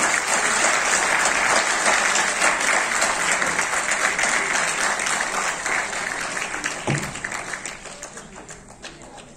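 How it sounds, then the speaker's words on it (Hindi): Loud, sustained applause from a large crowd at a Gurjar community gathering in Delhi, a dense wash of clapping that slowly eases in volume. "तालियां कम है, जोरदार तालियां के साथ"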